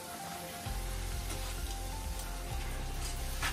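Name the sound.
luchi (puffed flatbread) frying in oil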